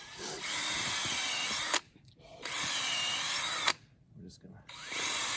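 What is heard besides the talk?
power drill boring tap hole into maple tree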